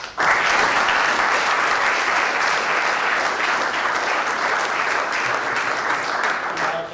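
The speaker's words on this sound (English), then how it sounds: "you guys deserve a big round of applause" An audience applauds the Tufts ROTC advocates at a 2012 Veterans Day ceremony, with dense, sustained clapping that starts suddenly and holds loud and even to the end.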